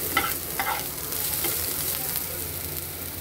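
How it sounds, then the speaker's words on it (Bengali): Onion sizzles as it fries in a pan with just one teaspoon of oil, a steady crackling hiss broken by a few scraping stirs early on, close and alone with no talking. "দেখতেই পাচ্ছেন শুধু পেঁয়াজটা জাস্ট ভাজা ভাজা হয়ে গিয়েছে"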